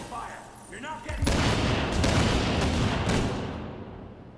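A sustained, loud volley of automatic gunfire plays out in an ambush firefight in Tom Clancy's The Division, starting after a brief lull and staying dense and booming throughout, with voices in the mix.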